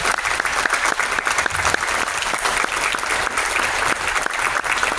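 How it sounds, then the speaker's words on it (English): An audience at an all-county band concert applauds its band directors with dense, continuous clapping that holds steady and loud throughout. "Let's give them another round of applause."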